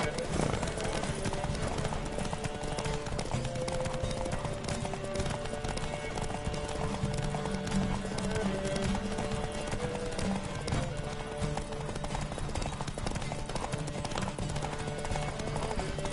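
Rapid hoofbeats of a galloping horse in The Witcher 3: Wild Hunt pound steadily throughout, with an occasional whinny and voices calling out over the running hooves.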